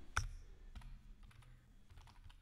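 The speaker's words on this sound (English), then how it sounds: "Open a command prompt or a PowerShell terminal. Let's clear the screen. and type the following command." Keys clatter on a computer keyboard as a command is entered at a PowerShell or command prompt terminal: one sharp near click, then a few soft, scattered keystrokes over quiet room tone.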